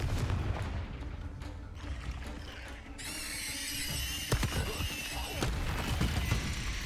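Confringo fire spell blasts in the Hogwarts Legacy video game, fiery bursts and booms amid battle effects with a shimmering magical sweep and further crackling impacts, fairly loud and busy throughout.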